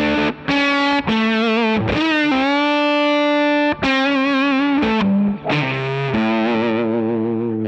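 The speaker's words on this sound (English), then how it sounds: "some spitty, spluttery sounds when the volume's cranked on the guitar" Electric guitar played at full volume through a vintage-style effects pedal, giving a loud, spitty, spluttering distorted tone as sustained chords and notes change every second or so, with no talk.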